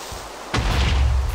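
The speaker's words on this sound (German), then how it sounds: "Die Explosion von einem Creeper wird unter Wasser ein bisschen abgeleitet" One sudden blast bursts out of a quiet hum, a deep booming Minecraft creeper explosion, partly muffled underwater, that lingers as a rumbling roar.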